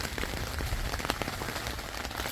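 Rain falling on a tent, a dense steady patter of drops close by with scattered sharper taps, no voices.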